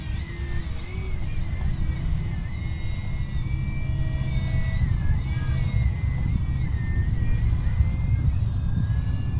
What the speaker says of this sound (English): It's just an awesome flying airplane.